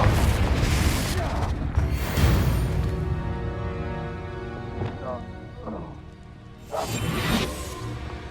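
Confringo explosion spell cast in Hogwarts Legacy during combat: loud booming blasts with whooshing bursts, one at the start and another near the end, among other spell effects, with a voice calling out in between.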